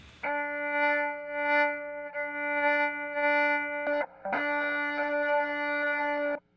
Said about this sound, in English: I'll play softly just to demonstrate that.